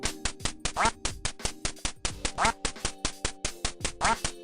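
Rapid, repeated duck quacks stack up in a busy rhythmic pattern over electronic game tones, loud and close.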